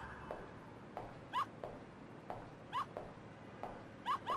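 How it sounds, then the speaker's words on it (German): Faint, repeated dog whimpers and yelps in a synthetic game-like tone from WarioWare: Smooth Moves recur at regular intervals over a low background hum. "Das ist ein Hund, Alter?"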